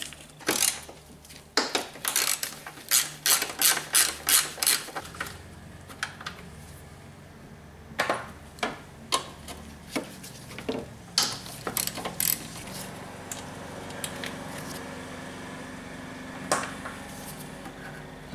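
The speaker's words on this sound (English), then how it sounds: "I need just a 3/8 ratchet and a fairly decent sized extension." A 3/8 ratchet with an extension loosening 10mm bolts on a 1999–2004 Volvo S40 petrol engine, close rapid clicking runs of the pawl in repeated bursts, with a few metallic clanks between, no speech.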